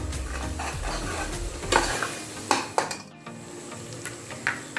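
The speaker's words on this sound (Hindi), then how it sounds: "अभी से थोड़ी देर तक हम भून लेते हैं।" Shan biryani masala frying in oil in a pan for chicken biryani, stirred with a spoon that scrapes and clinks against the metal at intervals over a steady low sizzle, close and alone.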